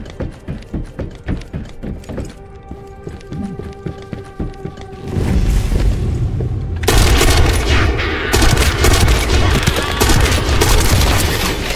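Explosions and weapon fire in The First Descendant video game: rapid mechanical clicks give way to a dense, loud, roaring barrage of booms and blasts that sustains to the end.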